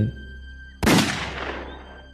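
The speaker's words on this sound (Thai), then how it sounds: "เสียงปืนแก๊ปที่บรรจุลูกปลายนับสิบเม็ด ก็แผ่เสียงดังขึ้น" A single loud gunshot from a percussion-cap muzzle-loading shotgun loaded with buckshot bursts out after a moment of quiet outdoor ambience, its boom decaying slowly into a long echo.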